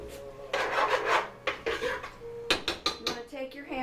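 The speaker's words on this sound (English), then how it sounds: "So what happens is, as this all sautés in, stir it up real good." Hamburger and mushrooms sautéing in a pan are stirred with a utensil, giving repeated scraping and clinking strokes against the metal, close and fairly quiet, with no talking.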